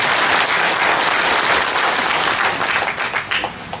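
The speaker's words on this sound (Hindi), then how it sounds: "थोड़ा अनिमेश के लिए भी ताली मार दो" Crowd applauding at a political gathering, loud dense clapping from many hands that holds steady and then thins into scattered claps toward the end, with no speech over it.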